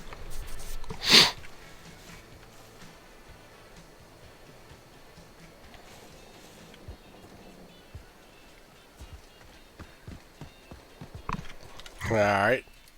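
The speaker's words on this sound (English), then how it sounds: "I'd be doing good if I could quit sneezing my head off." A person sneezing, with two loud sharp bursts several seconds apart over a low background of faint taps and clatter.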